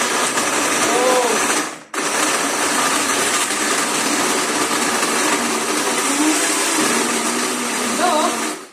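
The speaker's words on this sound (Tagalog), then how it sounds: "ito yung blender na gamit natin" A kitchen blender runs loudly and steadily for a mango shake, a dense whirring roar that briefly stops and restarts, with faint voices underneath.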